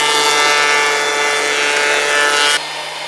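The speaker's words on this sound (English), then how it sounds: "there seems to me a very noticeable reduction in the noise produced by the helical cutter head" DeWalt DW733 planer with a helical cutter head running, a loud steady motor whine and cutting hum that drops abruptly in level near the end.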